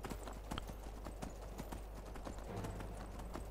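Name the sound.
horse hooves in video game Skyrim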